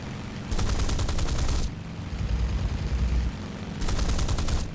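Aircraft guns in a flight combat game fire at a Boomerang in two loud, rapid bursts of machine-gun fire, one long and one shorter, over a steady engine drone.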